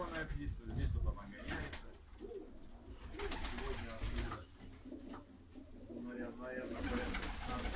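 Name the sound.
Baku broad-tailed pigeons cooing in a loft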